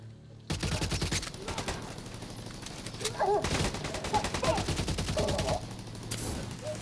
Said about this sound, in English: Firing on them now!